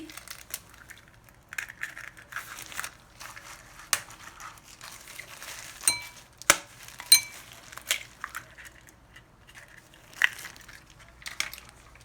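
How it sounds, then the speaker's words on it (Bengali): An egg being cracked for a Kolkata street-style egg roll, heard as several sharp, close crisp cracks and clinks spread through a quiet kitchen, with faint background hum. "এবার আমি ডিমটা ভেঙে নিচ্ছি।"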